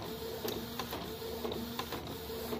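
A Canon inkjet printer loaded with sublimation ink runs a print job, its steady mechanical whir broken by rhythmic clicks and carriage shuttles roughly every half second, close and continuous.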